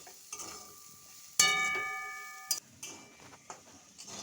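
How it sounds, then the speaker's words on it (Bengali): Snails and potatoes frying in a pan with a soft background sizzle, broken by a sharp metallic clang that rings out and a few lighter utensil knocks. "ভালোভাবে লালচেভাবে ভেজে নিচ্ছি শামুকটাকে আলুটাকে"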